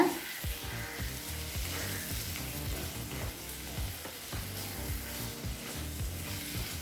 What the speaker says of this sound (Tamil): இப்போ வெங்காயம் தக்காளி கூட முட்டையும் நல்லா மிக்ஸ் பண்ணிக்கலாங்க